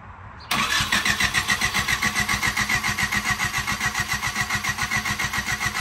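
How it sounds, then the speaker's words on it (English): A turbocharged 1995 Honda del Sol Si engine cranks over on the starter with the distributor unplugged, a steady rapid rhythmic chugging that starts abruptly and carries on loud and close without firing, with no talk. "Go ahead, we'll crank it over, get the"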